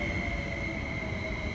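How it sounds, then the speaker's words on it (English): An MTR East Rail line train pulling into Sha Tin station, a steady loud rumble of wheels on track with a sustained high wheel squeal running through. "The train for the Wolfgang Racecourse is approaching."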